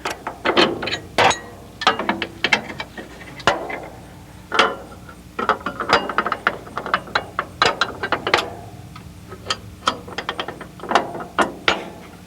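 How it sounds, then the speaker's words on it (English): A cylinder rocking wrench ratchets to rotate the header auger tube on a Case IH 1600 combine, sounding as a long series of loud metallic clicks in irregular bursts, close up with no talk. "With the aid of our cylinder rocking wrench, I'm going to rotate the tube, which is going to reposition the auger fingers"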